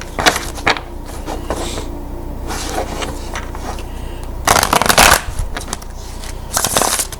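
Tarot cards are shuffled close to the microphone in several bursts of riffling and sliding, with sharp bursts near the middle and end and quieter handling between them.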